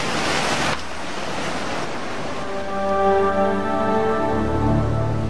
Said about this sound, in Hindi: जो नदी ज्यादातर एक खूबसूरत पहाड़ी दरिया के तौर पर बहा करती थी, वो एक उफनती और बेलगाम ताकत बन चुकी थी